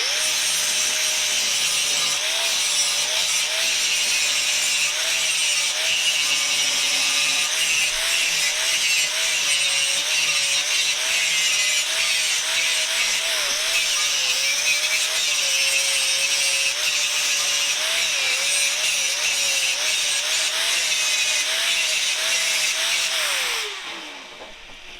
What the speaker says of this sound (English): So now I'm going to hit it with a grinding disc,